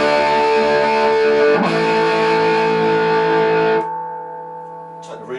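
A distorted electric guitar chord rings out through a Romany TR20 amplifier, sustained and loud before being cut off, leaving a fading tone and a brief pluck.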